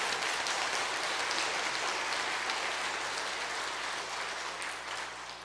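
A church congregation at a Wednesday evening revival service applauds the broadcast room team, a dense, sustained wash of many hands clapping that fills the room and eases off slightly at the end.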